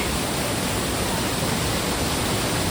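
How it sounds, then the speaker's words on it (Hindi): Water sprays under strong pressure beside the Kedarnath trek at Rambara, a steady, dense roar of rushing spray filling the clip with no break. "देख रहे हो भाई प्रेशर, फुहार पड़ रही है हमारे ऊपर पानी की।"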